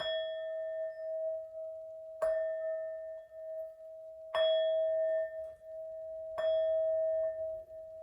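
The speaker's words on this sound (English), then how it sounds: "These next 4 bell sounds are to align us and to bless this reading." Four clear bell strikes ring out at even intervals to bless a tarot reading, each a bright metallic ding with a long sustained tone that fades before the next one sounds, with no voices.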